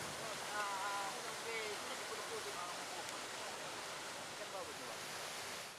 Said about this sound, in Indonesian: kondisi arus sungai cukup deras